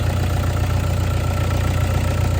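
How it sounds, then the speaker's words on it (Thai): Close, loud, even idle of a 2012 Toyota Vigo Champ 2.5 pickup with a loose exhaust pipe: a steady low rumble held throughout, with no voices. "เครื่องนิ่งนะครับ"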